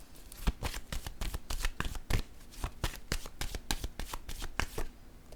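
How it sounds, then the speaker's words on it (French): Tarot cards shuffled and laid down by hand in a dense, rapid flurry of close, crisp card flicks and slaps. The sound is continuous and stays at moderate loudness. "Je vais déposer une autre carte."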